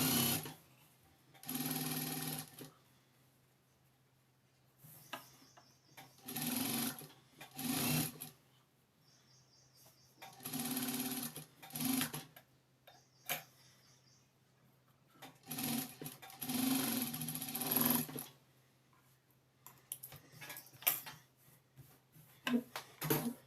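A sewing machine stitches lace trim onto the edge of a small child's gown in a string of close, steady whirring runs separated by quiet pauses, with occasional light clicks between them.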